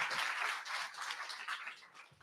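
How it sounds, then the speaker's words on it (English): Audience applause at a WarsawJS tech meetup for the event's sponsors. A dense, steady wash of many hands clapping fills the room and holds throughout. "Let's give another round of applause to our sponsors."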